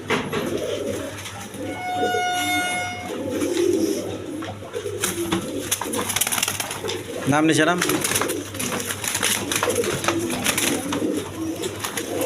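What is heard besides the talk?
pigeons cooing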